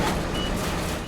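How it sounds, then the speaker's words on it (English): Reversing alarm beeping from a heavy rescue truck lifting a tractor trailer out of a river on a stormy highway, loud and close over dense engine rumble and wind noise. "I'm hearing the alarms."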